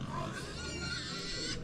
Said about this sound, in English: You can see the pig.